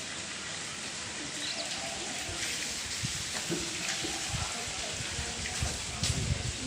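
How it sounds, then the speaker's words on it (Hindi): Heavy rain pours down steadily, a dense, constant hiss with scattered louder splashes throughout. "बहुत तेज़ बारिश आ रही है।"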